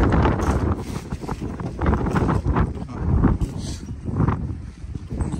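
Strong wind blows outdoors by a city bus stop in Edmonton, a loud continuous buffeting roar with gusty surges rising and falling throughout, no voices.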